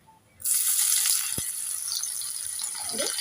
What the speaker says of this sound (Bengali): পেঁয়াজটাকে আমি ভালো করে ভেজে নিয়েছি